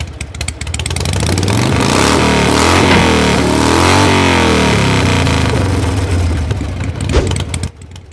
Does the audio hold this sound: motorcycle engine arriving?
yes